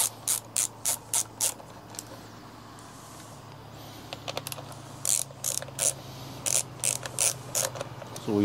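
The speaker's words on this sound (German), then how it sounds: "als erstes mal werde ich diese und diese Schraube auf beiden Seiten entfernen" Screws being removed from the fairing of a Husqvarna 701 motorcycle, a series of short ratcheting clicks in quick bursts, close and fairly loud, with a quieter pause in the middle.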